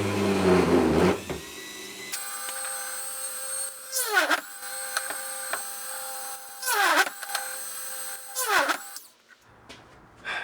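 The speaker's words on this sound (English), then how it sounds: "we're drilling through the holes we've already drilled so that we get matching holes in the frame" A small power drill bores matching holes through a wooden guitar access port cover into the frame, whining at steady speed with several sharp pitch drops as the bit bites in, with short pauses between holes.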